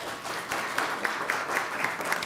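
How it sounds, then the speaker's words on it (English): Applause from the audience at a city council meeting, a steady spread of clapping held at moderate level for a couple of seconds with no talk over it. "So I would like to applaud both of those teams."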